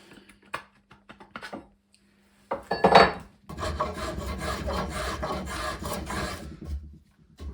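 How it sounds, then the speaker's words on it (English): A spokeshave cuts into a handmade ash axe handle clamped in a bench vise: a few light scrapes, a short pause, then a sustained loud rasping shave lasting several seconds, with no voices. "Shave off the handle in a little bit more controlled manner."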